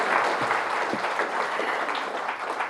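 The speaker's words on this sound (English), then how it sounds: "Wow, I think that deserves a round of applause." At the launch of the book Body Sutra, an audience gives a round of applause, a continuous, fairly soft patter of many hands clapping together for a few seconds.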